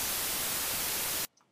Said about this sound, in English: that's the white noise